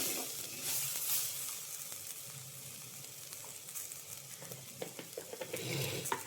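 Meat roast with turmeric sizzling in a pan while being stirred, a continuous loud frying hiss with scraping stir strokes and a few sharper clatters toward the end, close up.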